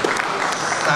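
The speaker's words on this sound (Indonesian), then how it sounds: "Tepuk tangan dong buat mereka." An audience claps for a company band at a PT Perhutani performance, with dense, steady applause filling the whole short moment.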